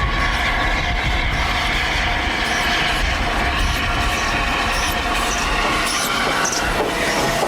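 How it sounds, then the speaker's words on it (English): A steam locomotive of the express passenger type hauls a train along an 18-mile heritage line, with a loud, constant rolling rumble, rhythmic wheel clatter and occasional high squeals. "Although the locomotive is an express passenger type, the driving wheel dimensions make it reasonably ideal for working the trains on our 18-mile line"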